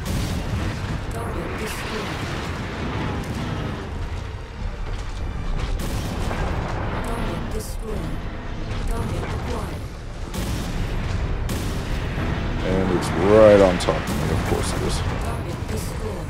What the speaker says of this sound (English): you gotta look closely to see where that artillery is landing